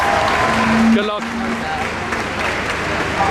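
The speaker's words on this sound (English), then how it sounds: "this crowd is getting bigger and bigger and bigger" A crowd at an anti-fascism, refugees-welcome protest in Newcastle fills the air with a steady, loud roar of voices and scattered clapping, with nearby speech over the top.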